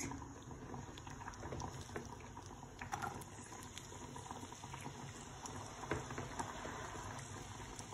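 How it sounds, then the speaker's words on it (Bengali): Chopped onion dropped into hot oil in a pan, frying with a soft continuous bubbling sizzle and scattered crackles at close range, steady throughout with no voices. "তো আমি দিলাম পেঁয়াজ।"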